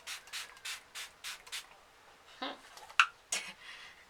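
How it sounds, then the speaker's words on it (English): A bottle of setting spray is spritzed onto a face at a distance in a quick series of about six short hissing bursts, close and crisp, followed by a few softer rubbing sounds. "I'm using LA Gal setting spray, and you just spray that on your face at a distance"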